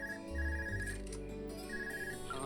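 A cell phone rings in the video game Trails of Cold Steel, a bright electronic ringtone sounding in two short repeated bursts over soft game ambience.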